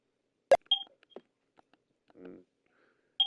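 Short electronic telephone beeps on a dead line in the video game Ash Pines, a few sparse bleeps and clicks separated by silence, with a faint low murmur in between.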